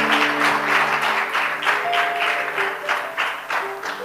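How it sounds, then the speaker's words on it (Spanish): A church congregation claps in steady unison at a prayer service, a sustained rhythmic pulse of applause with faint held tones underneath. "¡Fuerte ese aplauso!"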